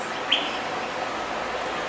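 Birds chirp softly in the background, a light, steady twittering with one brief sharper call near the start, at Sedgwick County Zoo.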